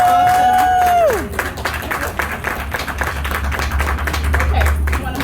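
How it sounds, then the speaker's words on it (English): Audience applause at a school fifth-grade awards ceremony, a steady patter of many hands clapping that follows a voice and a falling tone, filling the room at moderate loudness. "So give my children a round of applause."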